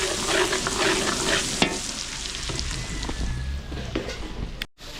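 Garlic, onion and butter sautéing for spaghetti in a catering kitchen, a steady loud sizzle with stirring scrapes and clinks throughout, briefly cut off near the end.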